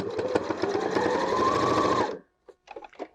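A sewing machine runs steadily for about two seconds stitching a Christmas tree cutlery wallet, a close whirring needle chatter that stops abruptly, followed by a few small clicks.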